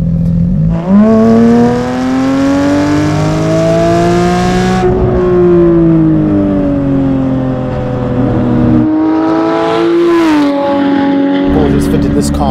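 A straight-piped Porsche 911 GT3 of the 992 generation with a PDK gearbox, making well over 1,000 horsepower, revs hard and loud, its engine note climbing through repeated rising sweeps with sharp gear changes close by.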